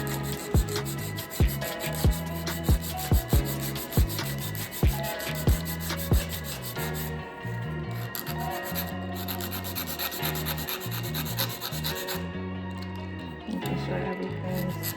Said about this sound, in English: I'm just gonna start by filing the side.